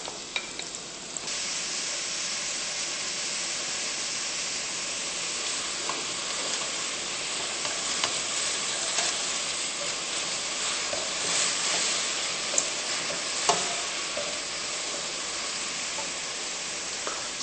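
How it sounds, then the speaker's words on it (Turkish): Onions sauté in melted butter and olive oil in a pan, giving a steady, close sizzling hiss with faint scrapes of stirring and no talking. "Tereyağımız eridiğinde içerisine soğanı ilave edip Türk mutfağı tabiriyle hafif pembeleştiriyoruz"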